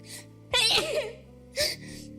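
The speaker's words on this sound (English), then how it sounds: "yeah, I have to sneeze." A sharp human sneeze followed by a quick second burst, close to the microphone and loud against a quiet room with a faint steady hum.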